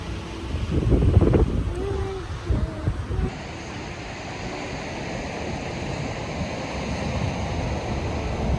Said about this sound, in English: Oh, it's such a beautiful beach.